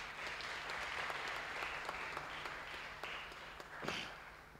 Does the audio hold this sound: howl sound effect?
no